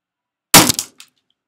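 A rubber mallet smashes objects: one loud, sharp crashing blow that quickly decays, then a faint smaller knock about half a second later, close by with no talking.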